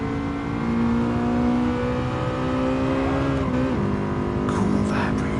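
Car engine in Gran Turismo Sport revving hard with a steady rising whine, then a sharp change in pitch as VTEC kicks in before climbing again, loud and continuous, with a person talking over it.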